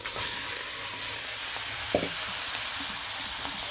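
Shing and baim fish salted and coated in turmeric, dropped into hot oil, give a steady loud hiss of frying with a faint clink partway through.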